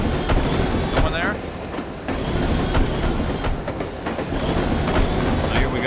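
A train clattering steadily along the rails in the No One Lives Forever spy game, a loud continuous rumble with rhythmic clicks and occasional brief wheel squeals.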